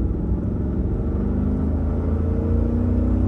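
A car with a manual transmission pulls away in second gear without using the clutch, its engine droning steadily and rising slowly in pitch as it gathers speed, loud and close with no talk.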